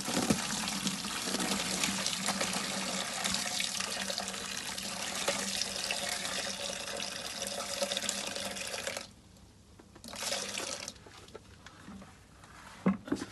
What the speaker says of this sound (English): then we'll get our other bucket, like so, and we just drain off